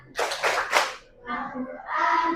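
Class of children doing the Tepuk Al-Quran clapping chant, a few quick bursts of claps followed by voices chanting together in a classroom.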